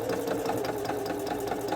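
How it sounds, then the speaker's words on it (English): A sewing machine runs stitching fabric under the presser foot to gather it, a fast steady mechanical chatter with rhythmic needle clicks, close and continuous. "I'm going to place my fabric under my presser foot, and I'm going to start to sew"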